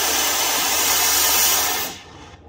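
Oxy-acetylene Cobra torch flame roars as a loud, close, steady broadband hiss, then cuts off abruptly near the end as the gas is shut off.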